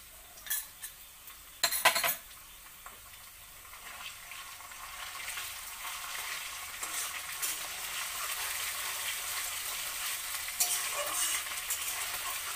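Crushed ginger goes into a hot frying pan for a Bengali-style masala khichuri and is stirred, starting with a few sharp utensil clatters and then settling into a steady, rising close sizzle with light scraping, with no talk.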